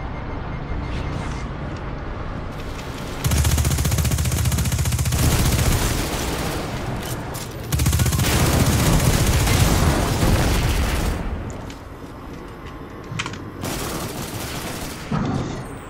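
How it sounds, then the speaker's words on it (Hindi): Rapid gunfire from a weapon in Cyberpunk 2077, with sustained automatic bursts and loud rattling volleys, some stretches denser and heavier, then easing into scattered shots near the end. "इसकी गन तो बड़ी नाइस है"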